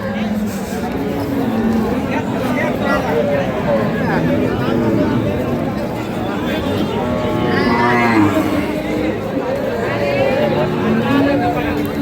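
Sahiwal, Sindhi and local dairy cows and calves moo and low continuously nearby at a livestock market while a crowd murmurs and people talk throughout, a busy, steady din.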